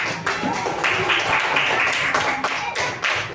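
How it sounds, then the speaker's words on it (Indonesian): Group of schoolchildren clapping for a classmate in a fifth-grade Indonesian-language class, a dense, steady patter of many hands at close range filling the room, with faint voices mixed in. "Oke, tepuk tangan untuk temannya."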